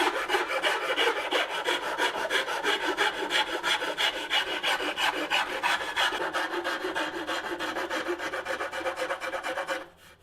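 Sandpaper rubs back and forth across a wooden guitar fretboard to shape its radius, a continuous close, loud rasping scrape in rapid strokes that stops abruptly near the end.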